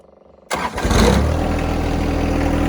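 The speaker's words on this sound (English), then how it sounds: "3 points down, engine starting" A John Deere 1025r compact tractor engine cranks and catches after a quiet idle-off pause, then settles into a loud, close, steady diesel idle.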